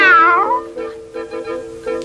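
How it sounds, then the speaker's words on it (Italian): A single drawn-out cartoon cat meow from Huckleberry Hound, high and falling in pitch, followed by a faint lingering tonal hum; no talking. "ho paura che nessuno riuscirà mai a sentire un miagolio così debole"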